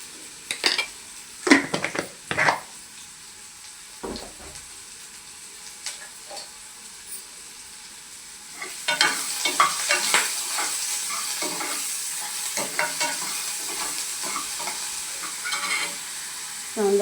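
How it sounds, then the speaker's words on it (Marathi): Onions frying and being stirred in a pan, with intermittent scraping and clinks of a utensil early on, then a steadier sizzle with busy stirring through the second half, close and moderately loud, no talking. "कांदा छान असा परतून घेऊया आपण."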